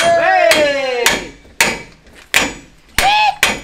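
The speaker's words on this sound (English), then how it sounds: "Big copper hammer, eh?" A big copper hammer strikes metal during truck fabrication work, producing several loud, ringing blows at irregular intervals, close by, with a brief voice between the hits.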